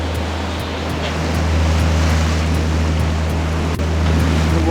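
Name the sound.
gentle lake waves while boating on Lake Ontario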